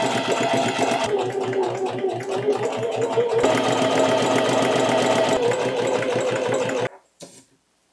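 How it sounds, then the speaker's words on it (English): A sewing machine runs a zigzag overlocking stitch in a steady, loud, fast mechanical whir that holds for about seven seconds, then stops abruptly with a brief final rattle. "Time to do some overlocking"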